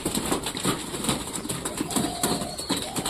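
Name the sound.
pigeons landing for food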